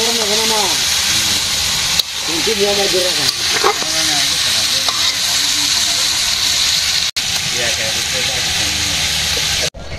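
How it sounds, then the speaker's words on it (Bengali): Food sizzles and hisses steadily in a hot pan, a constant crackling wash with people speaking over it. "তারপর ভাজা হবে"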